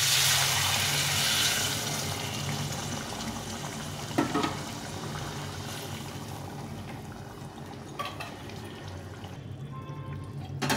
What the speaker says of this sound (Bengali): আমি জলটা ফুটিয়ে রেখেছিলাম, জলটা দিয়ে দিই।